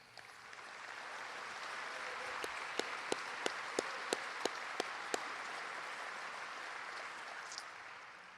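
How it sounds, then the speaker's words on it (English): A luncheon audience applauds the football coaching staff at a Red Raider Club kickoff event, with a broad steady wash of distant clapping and a run of sharper, closer claps standing out in the middle. "If I could have our coaching staff, my football coaching staff, stand up so we can give you a round of applause"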